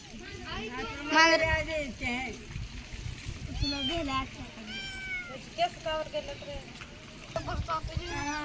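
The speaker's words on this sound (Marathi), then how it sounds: "बघा म्याव म्याव करायल्यात मांजराचे पिल्ले" Kittens meow repeatedly in high, thin cries, mixed with a voice and other chatter nearby.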